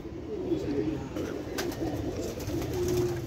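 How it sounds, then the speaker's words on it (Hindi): Pigeons kept on a rooftop coo in soft, repeated low murmurs against a constant outdoor hiss. "ये मोती वाला कबूतर है, ये एक दूसरा कबूतर माशाल्लाह, ये भी बहुत अच्छा कबूतर"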